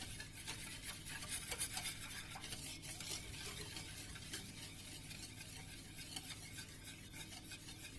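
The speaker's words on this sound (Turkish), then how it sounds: "Kaynayıp kıvam alana kadar ocakta pişireceğim." Muhallebi milk pudding thickening in a pot on the stove, a steady soft scraping and stirring with faint bubbling, continuous and close, with no one speaking.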